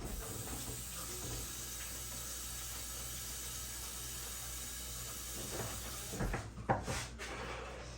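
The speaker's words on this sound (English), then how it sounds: "I'm going to rinse out the whisk and stir the pot one more time." Water runs steadily from a kitchen tap as a whisk is rinsed, a broad continuous hiss with a few clinks and knocks near the end.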